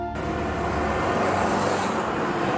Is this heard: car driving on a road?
yes